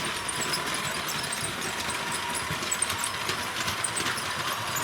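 A small electric motor in a LEGO toy train locomotive whirs steadily with a faint rattling, clicking hum, close by and continuous without pauses.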